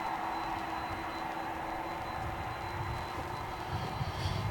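A Polar Air Cargo Boeing 747-300 at Dallas/Fort Worth Airport at night gives a steady, broad jet engine roar that holds through the clip, with a faint thin whine above and a slight swell near the end.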